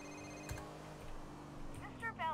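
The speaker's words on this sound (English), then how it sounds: "Phone call?" A mobile phone rings in Grand Theft Auto IV, with short repeated electronic ring bursts near the end, under steady game background sound and a faint click earlier.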